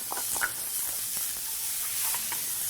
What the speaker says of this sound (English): So into your sauteed onions, proceed to add your minced garlic